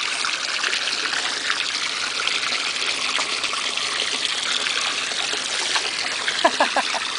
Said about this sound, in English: You catching the water?